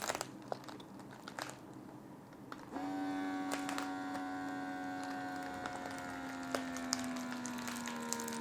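A FoodSaver handheld mini vacuum sealer starts up and runs against the one-way valve of a bag, a steady electric motor whine with a slowly falling pitch after some crinkling plastic handling, close and moderately loud.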